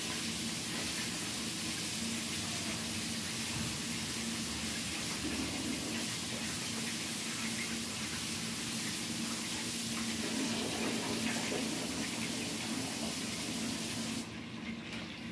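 Chicken rinsed under a running kitchen tap, a loud, steady rush of water lasting throughout with slight variations and no talking.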